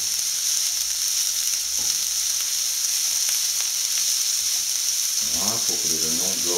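Finely chopped onions and garlic fry in a pan, a loud steady hiss of sizzling with a few soft stirring touches, and a voice talks briefly over it at the end.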